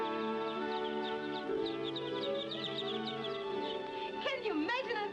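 Newly hatched chicks in an incubator chirp in a dense, continuous high cheeping chorus, close and fairly loud, with clucking mixed in.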